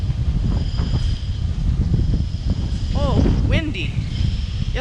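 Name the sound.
wind blowing around a rooftop garden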